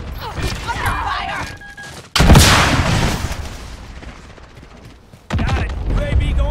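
Gunfire and explosions in Call of Duty: Modern Warfare beta multiplayer with an AK rifle; loud bursts and booming impacts in bunches, with game radio callouts and voices mixed throughout.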